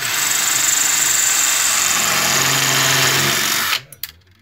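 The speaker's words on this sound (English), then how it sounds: "we need to start by drilling out these rivets" A power drill whines steadily at high speed for several seconds while drilling out rivets on a motorcycle exhaust, then stops abruptly, followed by a couple of faint clicks.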